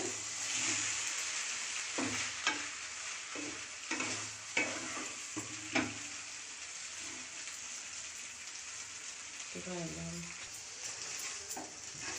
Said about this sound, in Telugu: ఇప్పుడు ఇది మొత్తాన్ని నూడిల్స్ పట్టే విధంగా బాగా కలుపుకోవాలండి.